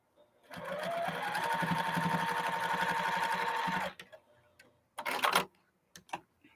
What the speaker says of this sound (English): And now I'm just going to sew this.